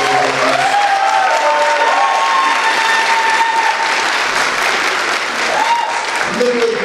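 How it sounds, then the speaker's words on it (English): An audience at a college speech night breaks into sustained, loud applause that fills the room, with voices faintly audible within the clapping crowd. "can we just give a big round of applause to the MJC Stage and Debate Team coming out here?"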